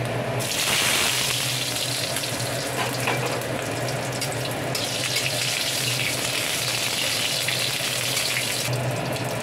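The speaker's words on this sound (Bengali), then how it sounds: "বেগুনটা ওখানে অল্প সামান্য একটু যাতে ভাজা হয়ে যায়।" Steady, loud hiss of eggplant frying in oil, continuous for the whole stretch with no talking.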